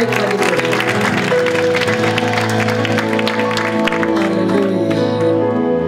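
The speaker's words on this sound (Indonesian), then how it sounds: "Boleh kita beri tepuk tangan yang terbaik bagi Tuhan." A church congregation breaks into sustained, dense clapping that runs evenly throughout, mixed with held musical tones playing underneath.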